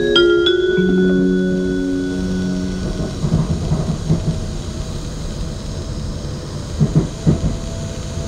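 A Shinkansen Kodama bullet train rumbles steadily along the rails, heard from inside as a deep, continuous roar with occasional rhythmic clacks, after a fading electronic chime tone at the start.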